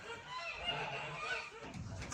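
Several geese honking in a noisy cluster, fairly close, with a faint voice briefly audible near the end.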